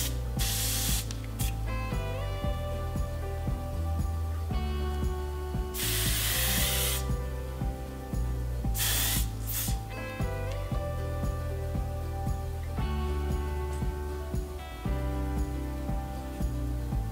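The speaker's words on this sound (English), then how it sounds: "I'm gonna try a bit of the hairspray as well, just to see if I can actually work through it." Hairspray from an aerosol can sprayed onto hair in a few sharp hissing bursts, one brief, one longer and one short, heard over steady background music.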